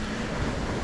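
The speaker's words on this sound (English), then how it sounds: "plows straight through the waves" A sailboat with reefed sails pushes through choppy wind-driven waves in the English Channel, a steady roar of rushing water and wind buffeting the microphone, with no voices.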